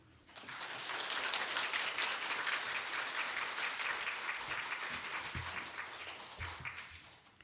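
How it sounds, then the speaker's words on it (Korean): Church congregation applauding to welcome the pastor to the pulpit at a Sunday service, a sustained round of clapping that swells quickly and holds steady for several seconds before fading. "목사님 나오실 때 박수로 환영하겠습니다."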